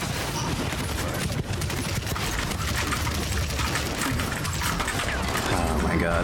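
Rapid gunshots from the fantasy shooter Paladins Champions of the Realm, a dense, loud, continuous barrage with mechanical clatter throughout.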